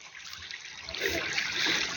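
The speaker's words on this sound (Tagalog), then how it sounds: "May ilog dito" River water flows and trickles near a farm field in South Korea, a soft steady wash that swells slightly after the first second, heard alone and fairly faint.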